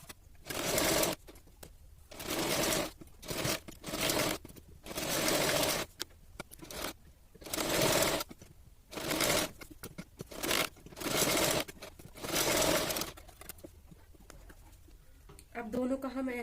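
A sewing machine stitches around the edges of a princess-cut blouse in repeated bursts of steady whirring, each run lasting about a second, separated by short pauses, with someone talking between the runs.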